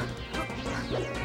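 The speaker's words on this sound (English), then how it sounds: "All right, gets a fair down smash" A down smash attack from Sheik in a Super Smash Bros. Melee tournament match lands as a loud, sharp crash amid continuous game noise and crowd din, with no clear talk over it.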